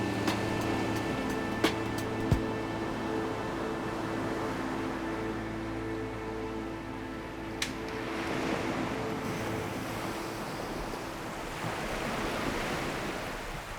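Indian Ocean waves lapping the beach of Nosy Iranja, Madagascar, a steady, moderately loud wash of surf that swells slightly later on, with a few faint knocks and no voices.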